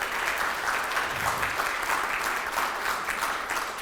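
Steady audience applause for teachers at an in-person Java developer conference, a dense, even crackle of many hands clapping for several seconds with no talk over it.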